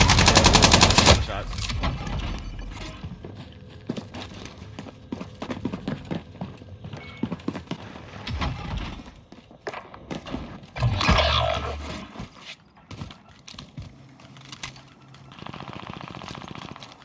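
Gunfire rattles through a Call of Duty Warzone match in bursts of rapid automatic shots and single cracks, some near and loud and others more distant, spread across the stretch with quieter gaps and occasional voices.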